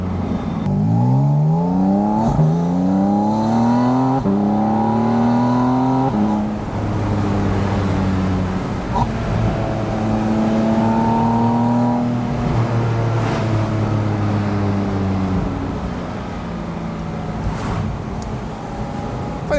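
Porsche sports car, a GT4 RS or Spyder RS, driving over a bumpy road, its engine note rising and falling through repeated gear changes with steady road roar and occasional thumps over bumps, loud and close throughout.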